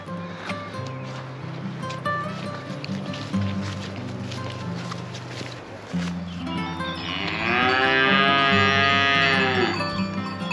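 A cow lets out a long, loud moo close by on the Via Francigena near Aosta, rising out of a low rumble of background noise and movement.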